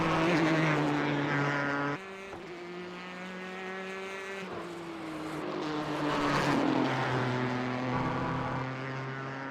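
Ford GT GTE race car in the iRacing sim, heard from an external camera: a loud, sustained engine drone with strong harmonics that shifts pitch with gear changes, rising and dipping as it runs.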